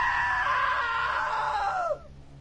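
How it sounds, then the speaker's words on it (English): A woman's long, sustained scream, loud and close, holding steady for about two seconds before breaking off abruptly. "Now that was a great scream."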